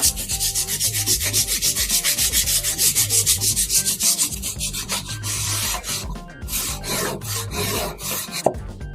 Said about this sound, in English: I used a piece of aluminium foil to act as a cleaning pad to brush away the rust